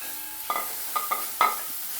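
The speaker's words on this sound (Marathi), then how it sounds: "भाज्या सुद्धा परतून घ्यायच्या छान व्यवस्थित अशा।" Carrot and cauliflower pieces being sautéed in a pan for a ragi soup, giving three short scraping stir strokes over a faint sizzle, close and moderately quiet with no talking.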